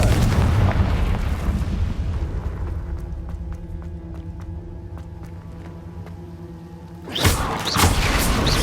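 Confringo blasting spell in Hogwarts Legacy: a heavy rumbling explosion that slowly decays into a ringing tail with light crackles, followed by a second sharp blast near the end.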